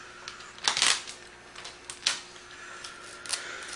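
Wide shipping tape goes onto a hair replacement base in short, faint crackling pulls and ripping bursts, spread irregularly over a few seconds with no talking.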